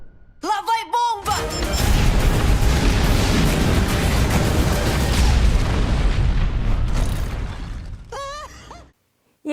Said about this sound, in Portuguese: Lá vai bomba!